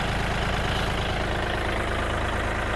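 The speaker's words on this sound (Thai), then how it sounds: "เสียงเครื่องปกตินะครับ เสียงเครื่องไม่เขกนะ" A Kubota L4018SP tractor's diesel engine idles steadily with a low, even chugging rumble, no knocking, no voices, holding constant for a few seconds.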